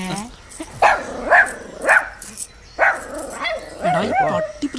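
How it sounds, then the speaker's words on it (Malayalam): A dog barks several times in close, loud yelps mixed with whimpering, with people talking over and between the barks. "പട്ടി പ്രശ്നമാവോ?"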